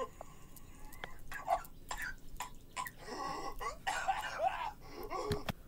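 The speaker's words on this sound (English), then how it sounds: "I got this cough." A cartoon character coughs a few times, short harsh bursts mixed with wheezy, throaty sounds against a damp, hissing background.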